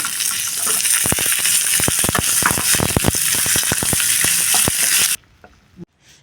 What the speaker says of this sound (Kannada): ಇವಾಗ ಇದಕ್ಕೆ ಈರುಳ್ಳಿ ಹಾಕೋಣ